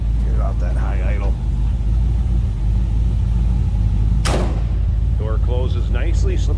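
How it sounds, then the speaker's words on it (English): A 1949 Chevrolet 3100 pickup street rod with a V8 holds a steady, loud engine idle throughout, with a door sound near the middle and someone talking at the start and the end. "It'll come down off the higher idle."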